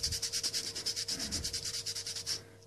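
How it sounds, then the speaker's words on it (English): Fine sandpaper rubbed back and forth over an Xbox 360 plastic shell, about twenty quick even strokes close up, ending abruptly. "I'm actually going to take my piece of really fine sandpaper"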